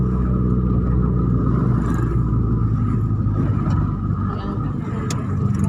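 Busy road traffic with many cars, heard from a roadside in Tanjung Sementok, Aceh Tamiang: a steady, loud low rumble of engines and tyres that holds for the whole stretch, with no single vehicle standing out.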